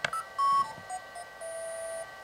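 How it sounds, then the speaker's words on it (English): A small device gives short electronic beeps, a quick series of clear, high tones in a quiet room, close and fairly soft, with one longer sustained tone in the middle. "that was a cute little beep"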